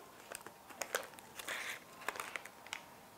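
Plastic packaging of an HIV self-test kit torn open by hand, soft faint crinkling and crackling in brief bursts, with a short tearing rip in the middle, no talking.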